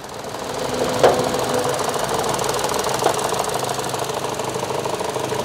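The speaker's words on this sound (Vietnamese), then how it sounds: "đây là cục máy nè anh em đó cục máy nguyên bản của dòng uh, à, Ecotec" The original Ecotec engine of a 2014 Chevrolet Cruze running steadily at idle, a close, continuous mechanical clatter with rhythmic ticking and a couple of faint knocks, with no talk over it.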